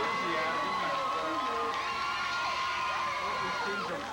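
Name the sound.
big crowd cheering at football game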